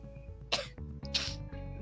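A sneeze performed as a Katawa Shoujo visual novel voice-over, with two sharp, loud bursts about half a second apart over steady background music.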